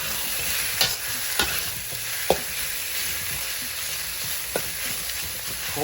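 Beef sears in a large wok, a loud steady sizzle with occasional clacks and scrapes of a utensil stirring the meat, no talking.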